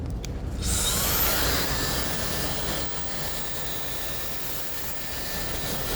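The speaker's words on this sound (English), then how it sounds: "I'm gonna hit it with the dryer." A steady loud blowing whoosh of a hair dryer in a barber shop during a flattop haircut, starting abruptly, with a faint high whine, then easing slightly and continuing to run.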